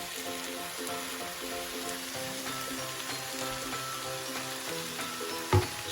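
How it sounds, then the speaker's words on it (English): Thai red curry paste frying in a pan over low to medium heat, a steady close sizzle with light stirring clatter and a sharp knock near the end. "Just going to add this paste to the pan."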